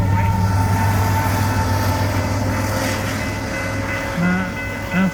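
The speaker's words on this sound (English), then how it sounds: "Watch another train come the other way." A Union Pacific freight train rolls steadily past the Mill Street grade crossing in Kelso, a loud continuous rumble and clatter of wagons close by, with a short low tone near the end.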